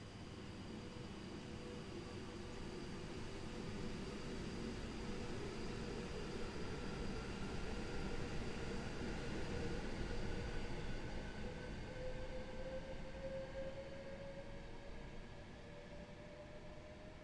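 A train rumbles steadily past Coventry on the West Coast Main Line in Train Simulator 2020, a long continuous roar with a faint rising whine and no voices.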